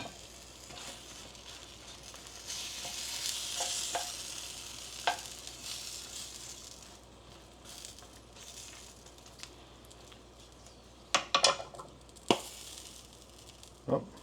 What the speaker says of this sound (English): I hear some nice sizzling